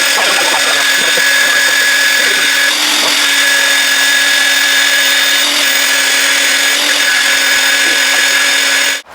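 Loud, continuous whine of a power drill boring out a sheared bolt on a Caterpillar D8 bulldozer track frame, sustained steadily at close range for about nine seconds before cutting off abruptly.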